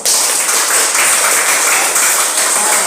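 Classroom applause for the student groups after their presentations, a dense, steady patter of many hands clapping that fills the whole stretch at an even, fairly loud level.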